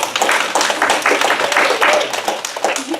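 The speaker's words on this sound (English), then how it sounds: "Yeah, you can clap." A group claps together during a Burning Bowl ceremony. The applause is a continuous close patter of many hands, with voices mixed in.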